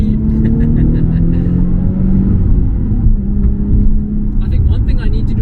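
Nissan 350Z HR engine revving while driven, a close, loud droning note whose pitch rises and falls with throttle and gear changes, heard under conversation inside the car.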